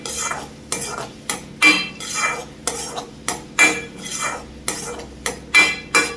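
A spoon scrapes and clatters rhythmically against a pan while onions are stirred on the stove over medium flame, roughly a dozen loud, close strokes with faint sizzling between them.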